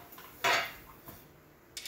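Metal screws being put back into a removed exhaust part from a BMW E36 during a V-band clamp install: one sharp metallic clatter, then a few fainter clinks and a final rattle, close by with no talking.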